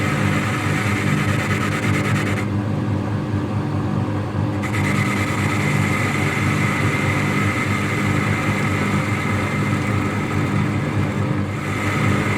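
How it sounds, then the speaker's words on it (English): A lathe machining metal for a motorcycle trailer axle pin gives off a steady, dense grinding rumble with a droning hum underneath, loud and constant from start to finish. "I love listening to the noise the metal being machined away."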